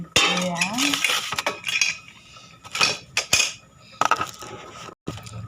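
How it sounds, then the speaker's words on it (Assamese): A metal pressure cooker lid is fitted and locked over boiling rice, giving a run of sharp metallic clanks and clinks spread through the moment, close and fairly loud. "এতিয়া কুকাৰৰ ঢাকনটো মাৰি দিম।"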